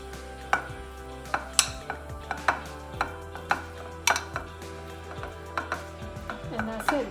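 Berries being stirred with a little flour in a bowl for a sugar-free berry crumble, heard as a series of sharp, close knocks and scrapes of the utensil against the bowl at an uneven rhythm, with no talking.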